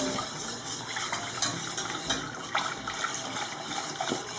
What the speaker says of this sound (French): Et là je vais rajouter du lait, comme ça doucement, première fois.